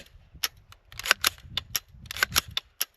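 A firearm fitted with a HITECH Arms silencer and an Atrius Super Selector with a broken lever arm fires semi-auto, giving a quick series of about ten sharp, suppressed cracks at irregular spacing.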